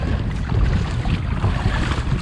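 Water sprays over the bow of a Moken 12.5 V2 kayak riding waves on a lake. Loud, close splashing rushes continuously, mixed with buffeting wind noise, and there is no talk.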